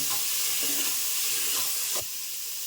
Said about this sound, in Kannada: ತೊಳ್ಕೊಂಡಿರೋ ಅವರೆಕಾಳು ಸೊ ಚೆನ್ನಾಗಿ ಎಣ್ಣೆಯಲ್ಲಿ ಫ್ರೈ ಆಗಲಿ ಅಂತ